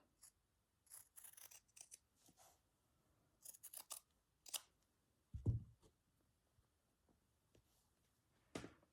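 Scissors trimming a small bit off a slow-stitched fabric pouch made from granny squares and vintage tapestry, several quiet, close snips in short clusters with silent gaps, ending in one last cut.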